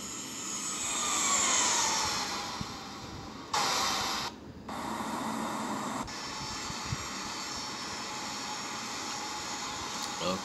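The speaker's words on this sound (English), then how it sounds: "As you see that the plane is going down smoothly." Simulated American Boeing 787-9 jet descending to land in the Infinite Flight game, approaching Southern California: a steady broadband engine roar that swells early, then drops to a quieter even hum, with a couple of abrupt cuts midway.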